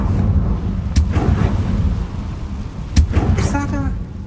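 Confringo spell explosions in Hogwarts Legacy, heard as two heavy booming blasts about two seconds apart over a loud low rumble, with a voice speaking in between.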